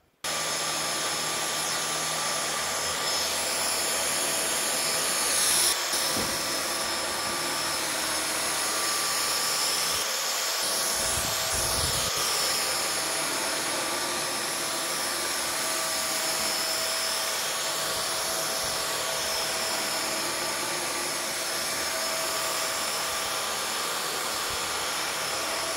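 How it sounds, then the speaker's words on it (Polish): A TechniSat Technimax AS1 upright vacuum cleaner sucks up dirt spilled on the floor, including tea, with a loud, steady motor whine running unbroken throughout and brief rattling of debris being drawn in partway through. "zobaczymy, jak z takim brudem poradzi sobie odkurzacz Technisat"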